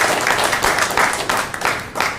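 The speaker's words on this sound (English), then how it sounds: "Please, let's give Chief Owens a round of applause." Attendees at a mayor's weekly briefing clapping for Chief Owens, a fairly thin round of hand claps in uneven bursts, close and moderately loud, without talking.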